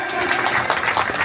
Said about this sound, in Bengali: একটু হাততালি হোক সকলে।